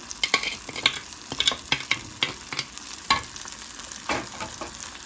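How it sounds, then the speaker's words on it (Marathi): Garam masala chutney sautéed and stirred in a hot pan, with quick scraping strokes of a spoon over a soft sizzle, close and alone without speech. "पुन्हा हे चांगलं परतून घ्यायचं आहे कारण ती चटणी त्याच्यामध्ये शिजली पाहिजे"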